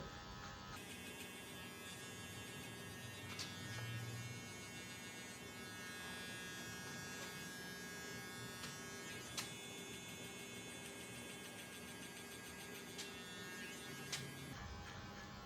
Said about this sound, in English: I recommend using a wired clipper because it just gives you more strength